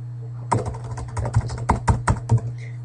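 Typing on a computer keyboard during a Python coding session: a quick run of several clear, close keystrokes in irregular clusters over a steady low hum, with no talking.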